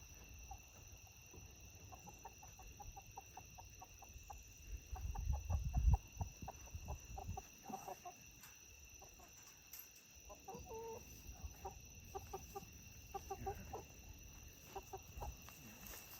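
Hens clucking on a small perch inside a cage, giving soft, scattered clucks and murmurs that rise into a brief louder flurry midway, with a steady hum in the background.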